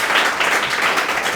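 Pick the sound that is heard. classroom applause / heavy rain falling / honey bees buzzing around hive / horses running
classroom applause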